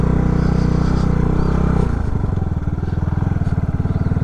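An RPS Condor 150cc Grom clone motorcycle engine runs loud and close in first gear, a steady throbbing putter that shifts to a lower, more pulsing beat partway through, with no voices over it.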